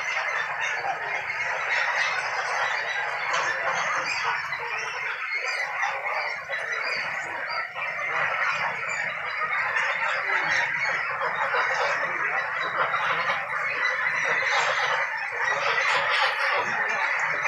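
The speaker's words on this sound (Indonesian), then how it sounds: "Ini angsa yang kemarin tuh dipilih, ini yang kecil-kecil ya." Small young geese kept on a farm call continuously, a dense overlapping chorus of honks and peeps at close range with no talk over it.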